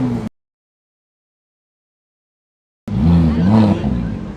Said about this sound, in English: Muscle cars here going.